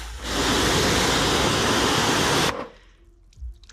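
A loud, steady hiss of high-pressure water spraying runs for about two seconds, then cuts off abruptly, leaving quiet drips and faint background noise.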